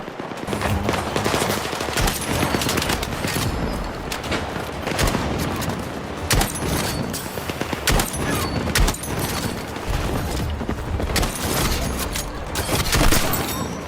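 Dense, continuous gunfire in Battlefield 6, with rapid automatic bursts and scattered heavier booms rattling nonstop for the whole stretch, loud and close, with no talk over it.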